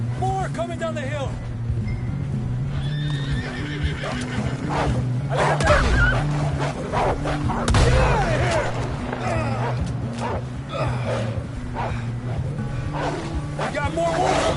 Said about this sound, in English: We got more wolves on the left.